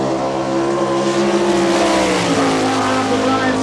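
A sprint car from the All Stars series, the number 2 plus from Fremont, Ohio, lapping a dirt track at Belleville, Kansas, in 1998: a loud, sustained engine roar that drops in pitch as the car passes, with faint announcer talk underneath.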